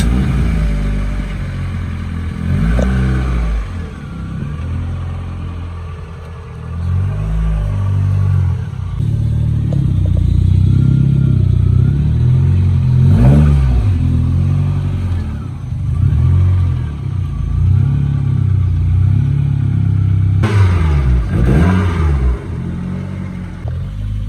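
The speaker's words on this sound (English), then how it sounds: "He's just literally now going for another drive because it's a beautiful day." An MK2 Vauxhall Astra GTE, a 4x4 with a 350 hp C20LET engine, revs and pulls away, its loud throaty engine note rising and falling in repeated surges as it drives off.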